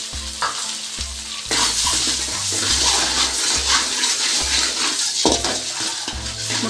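Eggs fry in hot oil in a pan for an egg gravy, giving a loud, close, continuous sizzle that swells after a quieter start, with scraping stirs mixed in.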